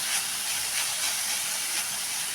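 Green chili thecha sautéing in a pan, a steady close hiss of frying with soft periodic swells from stirring, continuous and fairly loud throughout.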